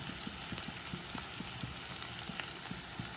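Onion and chopped ginger with whole cumin frying in a pan of oil give a continuous close sizzle with soft rhythmic stirring taps underneath.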